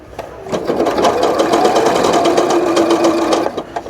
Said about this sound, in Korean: 재봉틀을 쓰다 보면 재봉틀이 문제를 계속 일으키는데